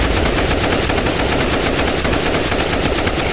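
Sustained machine gun fire in the Zombie Descent video game, a dense rapid burst of shots close and loud, running unbroken throughout.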